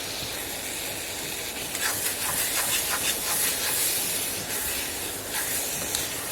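Onions and tomatoes sautéing in a pan over low to medium flame, a continuous sizzling hiss with brief crackling bursts, close and steady with no talk.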